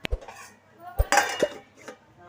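A metal lid clinks down onto a pot of cashew bombay rava upma after the stove is switched off, a few short clanks and clatters close by with faint background noise.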